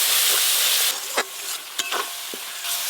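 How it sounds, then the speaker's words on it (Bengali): Rupchanda fish curry on the stove: spice paste with chopped tomato and a splash of water sautéing in the pan, giving a steady close sizzle broken by a few sharp spatula scrapes and clinks. "এবার টমেটো কুচি দেব, অল্প একটু জল দিয়ে মশলাটা একটু ভালো করে কষিয়ে নেব"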